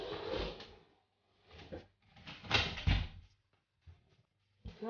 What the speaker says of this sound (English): So guys, I got to open the door.